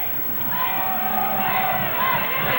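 Crowd at a 1999 NU Miners versus Grant Pacers football game, a broad steady roar of many voices with faint cheering swells, heard from a distance throughout.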